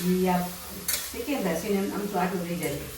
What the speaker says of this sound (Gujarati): ઘી ગરમ થઈ ગયું એટલે હવે ગાજરનું છીણ મમ્મીએ નાખી દીધું છે